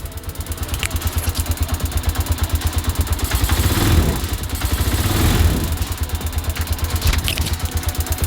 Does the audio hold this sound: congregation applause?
no